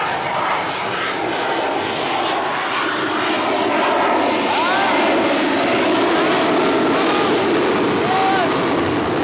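An F-35 fighter jet passing overhead at the Miramar Air Show gives a steady, broad aircraft-engine roar that holds loud through the whole stretch, with faint crowd chatter under it.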